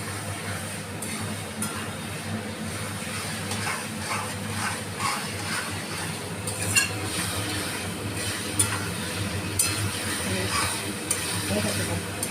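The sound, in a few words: stirring prawn chorchori in a pan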